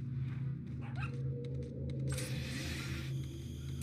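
A dog barks and yips in Resident Evil 4, a few short barks over a low rumbling game background, followed by a sudden bright noisy burst of effects.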